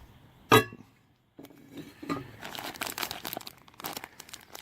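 A knife cutting a hole in a plastic food package for biscuits and gravy at a camp cookset: one sharp crinkle and pop, a pause, then a run of close plastic crackling and tearing sounds.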